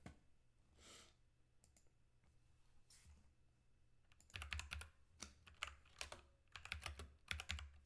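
Numbers tapped into a calculator, a quiet scatter of sharp plastic key clicks, sparse at first and then coming in quicker bursts of several presses, close up and with no voice over them.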